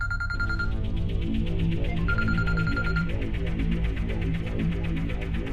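A phone ringback tone after placing a call gives a steady pulsing ring that repeats in even rhythm, accompanied by a short melodic tone pattern, heard clearly without talk.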